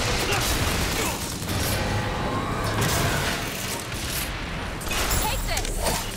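Rapid gunfire and explosive blasts in a Bioshock Infinite firefight fill the whole stretch at a steady, loud level, a dense, continuous clatter of shots.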